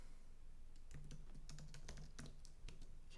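Computer keyboard typing in a software coding session, a steady run of quick light key clicks at close range with no voices.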